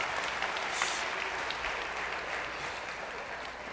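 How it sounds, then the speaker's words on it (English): Audience applause fills a room after a speaker's joke during a church-style talk, a steady dense wash of many hands clapping at once, sustained and even for the whole stretch with no voices standing out. "That was the weirdest applause I've ever received"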